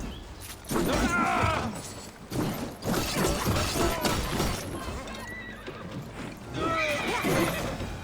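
Horses whinny and their hooves clatter in a mounted attack during the siege of Paris in Assassin's Creed Valhalla, with loud bursts of neighing and galloping mixed with crashing battle effects and voices.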